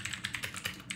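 Rapid keystrokes on a computer keyboard while coding a Swift app, a quick close run of light clicky taps with no one speaking.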